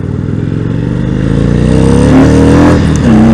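A 2019 Indian Springfield Dark Horse motorcycle with stock pipes roars loudly and close, its engine note climbing as it accelerates hard, with the rear tire breaking loose near the end.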